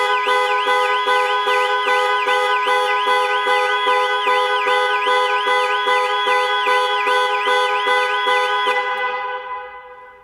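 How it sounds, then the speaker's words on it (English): Jaguar I-PACE (20MY) car horn sounding repeatedly under the panic alarm, a rapid steady train of loud honks pulsing for about nine seconds before cutting off. "Press for 3 seconds or press 3 times in 3 seconds and the horn will sound"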